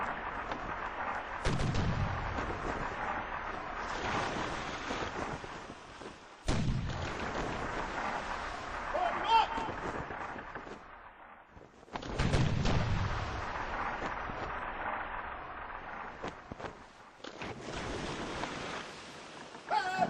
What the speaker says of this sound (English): All my cannonballs went over the ship.